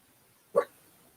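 A dog gives one short, faint bark, a brief lone yip over quiet background noise.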